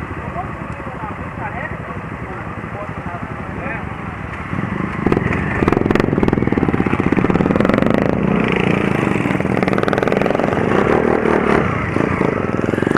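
Motorcycles at a motorcycle gathering in Papagaios, Minas Gerais, engines idling and loud exhausts rumbling close by, swelling louder midway with revving, while people talk nearby.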